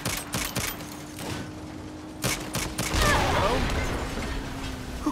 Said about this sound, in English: They have a turret. Can't take this kind of fire forever.